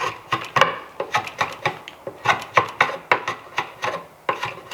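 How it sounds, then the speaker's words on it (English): A draw knife shaves wood for a tool handle with the bevel flipped for light cuts, a series of close, crisp rasping strokes in a quick, even rhythm. "you flip the draw knife over. And you use it the opposite way. Remove much less material that way."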